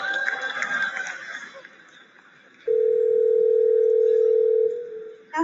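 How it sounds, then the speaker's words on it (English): A phone line rings out as an AI assistant calls a hair salon: a single long, steady electronic ring tone sounds clearly for about two seconds after faint background sounds, then cuts off. "what you're going to hear is the Google Assistant actually calling a real salon to schedule the appointment for you"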